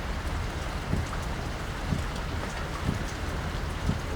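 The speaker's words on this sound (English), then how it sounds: "Rain's coming down harder now." Heavy rain pours steadily during a storm chase, a dense continuous wash of drops with a few louder splashes roughly once per second, close and fairly loud with no talking.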